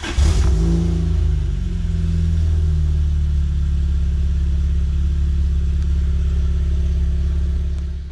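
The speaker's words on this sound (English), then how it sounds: "Now you can go ahead, turn the car over," A Lotus sports car engine cranks and catches at once, then holds a loud, close, deep idle rumble that stays steady to the end.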